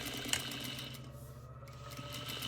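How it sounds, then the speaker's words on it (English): A sewing machine stitching a quarter-inch French seam on fabric: a steady, close mechanical whir running continuously through the short stretch, with no voices. "now I'm going to sew 1/4 inch along that seam"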